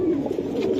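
A Giribaz pigeon coos softly and close by while being held in the hand, with a low, continuous throaty murmur and no voices.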